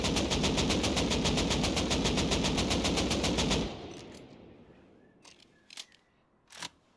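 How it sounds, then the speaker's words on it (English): Rapid sustained automatic fire from an AK rifle in the video game Rust, a loud steady burst of evenly spaced shots lasting several seconds, then a decaying tail and a few scattered distant clicks. "now the AK."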